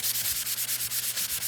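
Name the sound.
sanding a wooden piece with a sanding block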